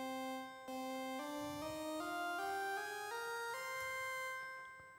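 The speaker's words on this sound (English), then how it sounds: "is something called the minor scale" Minor scale played upward from C on a synth, eight bright sustained notes stepping evenly higher, one after another, alone and fading at the end.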